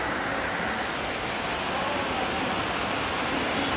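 Heavy water pours and rushes in a steady, loud, broadband wash that fills the whole stretch without pause, close and constant like a strong downpour or cascade.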